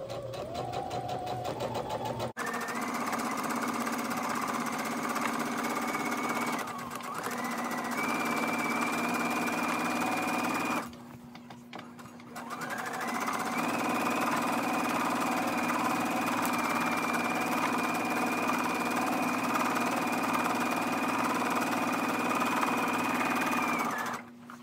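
Sewing machine stitching a single row along a gathered skirt mock-up, a steady whirring hum running in long bursts with a brief pause partway through.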